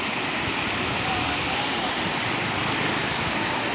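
A strong flow of water pours over a waterfall near a bridge at Salepur, Cuttack, giving a continuous loud roar that stays even throughout with no clear talk.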